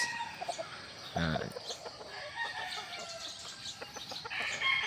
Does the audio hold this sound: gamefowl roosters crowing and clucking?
yes